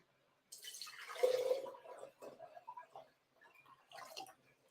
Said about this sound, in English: Can you pour that dressing in here, please?